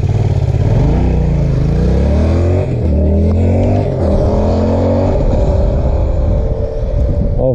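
A Honda CRF450 motocross bike accelerating at full throttle: a loud, close engine roar climbs repeatedly in pitch as it pulls through the gears, staying continuous throughout.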